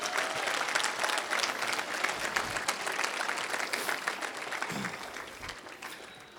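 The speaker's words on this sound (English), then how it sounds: "Can we give them one more round of applause?" A crowd at a staff appreciation gathering gives a round of applause, continuous and fairly distant, with claps holding steady and then fading slightly toward the end.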